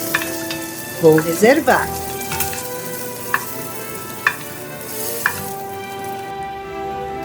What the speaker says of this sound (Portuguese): Nesta mesma gordura da costelinha, vou fritar o bacon até ficar bem dourado